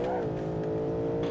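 A car engine in the BeamNG.drive driving game holds a steady, muffled drone with a brief rise in pitch at the start, heard alone and close.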